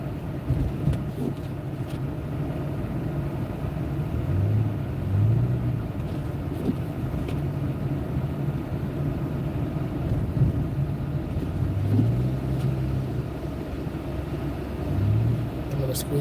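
A car creeps slowly along a snowy road in a snowstorm, a low steady engine and road rumble droning close throughout, with a person's voice audible at times.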